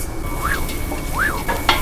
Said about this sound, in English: So we're just sweating the onions.